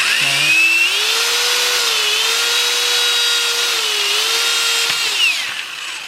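Power drill boring through metal for a custom chassis-mounted front splitter install, a close, loud, sustained whine that rises as the motor spins up, holds steady with slight wavering, then cuts off near the end.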